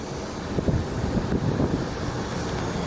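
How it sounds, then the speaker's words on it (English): Gusty wind buffets the microphone at Phoenix Sky Harbor International Airport at night, a low rumbling roar with irregular thumps, no voices. "It's kind of windy here"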